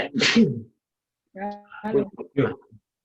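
One abrupt sneeze up close, followed after a pause by someone speaking briefly.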